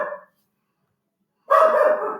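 A dog gives a short bark, then after a pause a longer, louder bout of barking or whining up close, with no talk over it.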